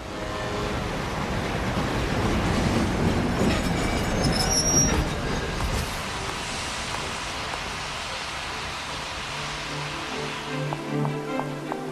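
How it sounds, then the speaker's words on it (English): A train ride in the video game Lightning Returns: Final Fantasy XIII, with a loud steady rumble of rolling wagons and wheels squealing against the rails that slowly fades, and no talking. "we're gonna take the train to Luxurion"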